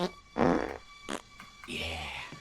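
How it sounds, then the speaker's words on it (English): A man standing on a table breaks wind at his boss in a comedic movie scene: several short, sputtering bursts of flatulence, close and moderately loud, ending in a longer, rougher release, with no speech. "The man climbed onto the table and gave his boss a fart."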